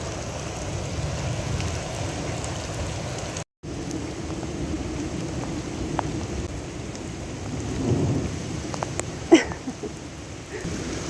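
A thunderstorm with heavy rain drums steadily on surfaces around a flooding house and bridge. A low thunder rumble swells late, then a sharper crack, with a brief dropout early on.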